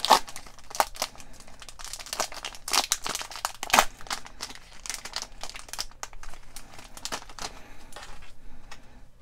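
A LEGO Movie 2 trading card pack wrapper is torn and crinkled open, with sharp crackling plastic bursts at the start that settle into softer, irregular rustling.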